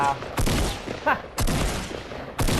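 Fortnite gunfire at Tilted Towers comes as three loud, evenly spaced bursts of shots about a second apart, each with a fading tail, and a short voice is heard between them.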